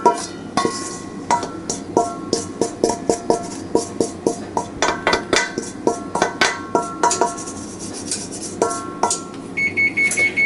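A kitchen oven beeps as it comes up to temperature, a long run of short, regular electronic tones with clattering underneath, fairly close and clear, with no talking.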